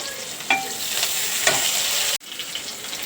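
Finely chopped onion sizzles and fries in a pan, a constant crackling hiss with a few distinct scraping stirs and one sharp knock near the end; no talking.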